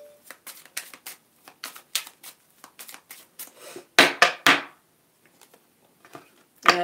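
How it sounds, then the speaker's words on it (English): Tarot cards being shuffled close by, with a series of quick papery riffles and soft slaps in irregular bursts, a few louder than the rest. "I'm going to keep shuffling."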